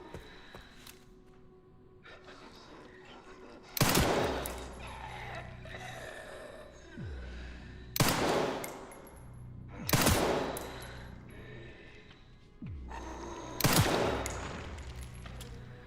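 Gunfire in the video game Resident Evil 9: Requiem, with loud single shots recurring every few seconds, each ringing out against a quiet, rumbling background.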